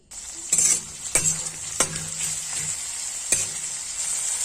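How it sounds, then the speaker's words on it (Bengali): Spice masala of green chillies, ginger, garlic, cashews, chopped tomato and salt frying in a pan: a soft continuous sizzle with a few sharp scraping stirs and clicks of a spatula against the pan, fairly close and without talk. "আর একটু নুন দিয়ে এটা ভাজতে হবে।"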